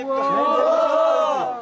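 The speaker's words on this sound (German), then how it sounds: "Ein Treffer wird gefeiert." Men at a village archery contest in Bhutan raise a loud, sustained chanted shout celebrating a hit, several voices blending into one rising and falling cry for about a second and a half.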